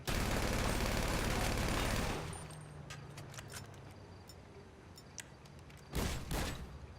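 Rapid automatic gunfire in Grand Theft Auto V Online, a loud sustained burst of shots for about two seconds, then quieter game ambience with a few sharp clicks and a second short loud burst near the end.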